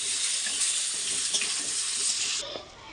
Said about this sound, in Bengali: আর আলুটাকে একটু ভেজে তুলে রাখবো।